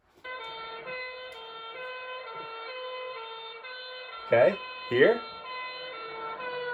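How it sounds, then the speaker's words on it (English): A fire truck's siren passes by, its steady layered wail sliding slightly in pitch as it goes. The siren stays loud throughout, and a voice speaks briefly twice over it near the end. "The pitch changes as the fire truck passes us."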